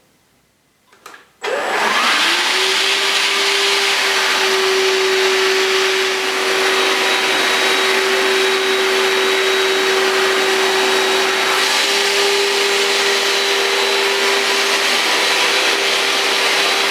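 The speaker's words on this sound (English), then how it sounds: "I'll then draw back the machine and hopefully we'll be left with a clean and almost dry floor." A Vax Floormate cordless hard floor washer starts up after a brief click and runs steadily with a loud, continuous motor whine and whooshing suction, close by and without talk.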